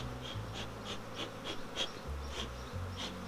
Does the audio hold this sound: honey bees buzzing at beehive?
yes